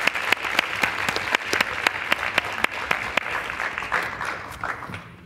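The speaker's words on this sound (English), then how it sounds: "I'd like to hear a big round of applause for our presenters today" An audience at a panel discussion gives a round of applause for the presenters: dense, steady clapping from many hands that fills the room throughout and tapers slightly near the end.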